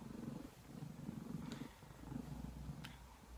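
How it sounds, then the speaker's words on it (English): A loud, close purr from Humphrey the cat rolls on in a continuous low rhythmic rumble, with a couple of faint brief clicks and no voices. "If you can hear Humphrey purring"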